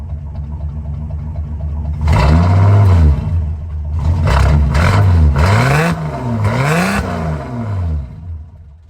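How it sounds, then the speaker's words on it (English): A 1973 Plymouth Scamp engine exhaling through a stock-style turbo-type muffler, revving up and settling several times in loud, close bursts, with a steady idle between the rises. "The muffler looks to be a pretty typical turbo type muffler, maybe something more on the stock side of things. It's got a pretty nice sound to it, actually."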